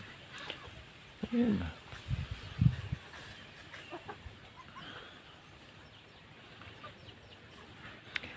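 Domestic chickens cluck in a farmyard, short low calls bunched near the start and then scattered faintly, with people talking throughout.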